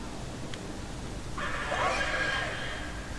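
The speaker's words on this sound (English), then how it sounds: "I just heard something that indicates. Oh, yep, demons." An eerie demonic cry in the video game Murdered: Soul Suspect, set in a mental asylum, rising as a harsh whinny-like shriek midway through over a low ambient rumble, heard alone without speech.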